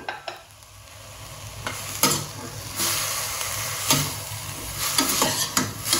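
Minced meat, potatoes and peas sizzle and fry in a pan, with repeated stirring scrapes and bursts of louder sizzling over a steady frying hiss, close and without talk.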